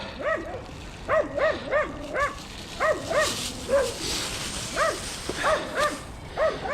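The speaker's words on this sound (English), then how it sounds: "No use being nice and quiet when you've got those buggers barking at you." Several dogs bark and yip in repeated bursts, fairly close, overlapping in an uneven rhythm with short gaps between volleys.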